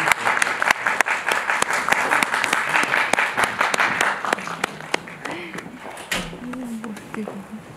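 An audience applauds at a film screening Q&A in a cinema, a burst of clapping that fades after a few seconds into a quieter room with voices speaking.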